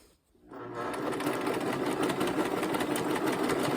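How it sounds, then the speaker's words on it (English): A sewing machine stitches a jelly roll quilt, starting up after a brief silence and running in a steady close rapid whirr with fast needle chatter to the end. "We're just going to sew all the way to the end."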